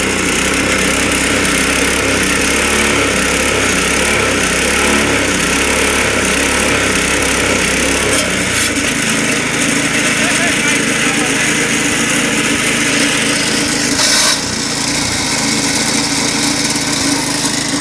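A motorized lawn mower cutting grass at a summer festival in Aitoo, Finland, its engine droning loud and continuous throughout, with the low rumble changing pitch midway and a brief rattle near the end.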